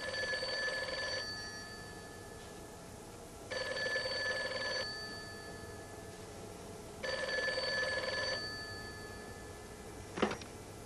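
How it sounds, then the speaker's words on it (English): A telephone rings in a quiet room, three long electronic bell bursts evenly spaced, followed by a brief click as the handset is lifted. "tape Gonzo picking up the phone"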